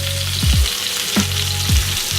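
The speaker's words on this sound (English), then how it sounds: "And now we're just gonna brown this chicken." Steady sizzling of chicken browning in a hot pan, with a few brief scraping or stirring sounds, no talking.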